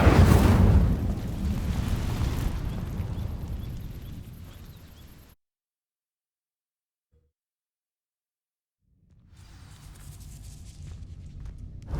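An Incendio fire spell in Hogwarts Legacy bursts with a loud roaring whoosh that fades out, followed by a few seconds of silence before a softer rushing fire sound returns.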